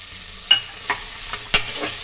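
Beans and carrots being stirred and fried in a pan for vegetable pulao, with a soft sizzle beneath a few distinct scraping clacks of a spatula, close and moderately loud, no voices.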